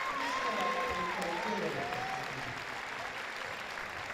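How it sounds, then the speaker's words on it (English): A large indoor crowd cheers and applauds for the Malaysia team at the 2013 OFC Futsal Championship, a steady dense roar with scattered whistles that holds loud throughout, with a commentator's voice faintly mixed in. "And what a cheer they get."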